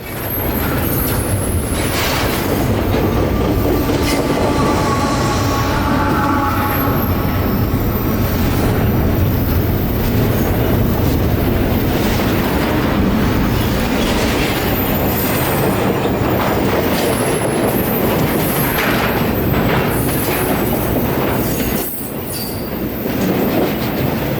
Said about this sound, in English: he regularly runs with a distributed power locomotive in the middle